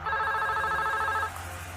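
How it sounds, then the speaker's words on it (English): A telephone rings with a steady electronic warble, loud and close, in two quick bursts lasting over a second before cutting off into quiet room tone. "I get a phone call from Paul Danley"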